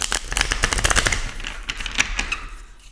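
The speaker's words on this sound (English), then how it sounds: "Let me shuffle one more time." Tarot cards are shuffled close by in a quick burst of crisp, rapid clicks and flutters that is densest at first, then thins into scattered snaps.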